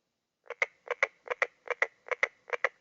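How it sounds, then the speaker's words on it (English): Recorded carpenter frog calls play back as six evenly spaced double knocks, each a sharp pair of hammer-like notes, clear and close against a silent background. "carpenter frog."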